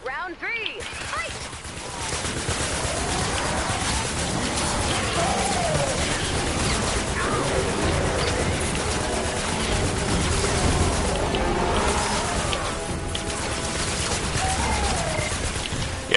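Dense, continuous Mercury LMG fire and explosions crackle in Fortnite Save the World, a loud unbroken barrage with a voice speaking over it.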